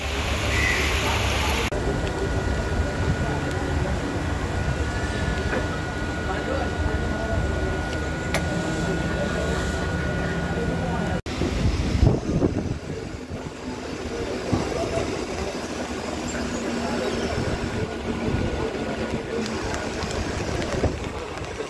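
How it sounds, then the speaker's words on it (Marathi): A fast Mumbai local train runs on monsoon-flooded tracks near Sion and Dadar, with a steady loud rumble and rush of wind from onboard and a brief clatter midway. "आम्ही फास्ट ट्रेन पकडून आलोय"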